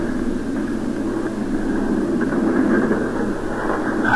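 A tram rolls along in a Castlevania video game, giving a continuous loud rumbling drone with a steady mechanical hum that holds level throughout, with no voices.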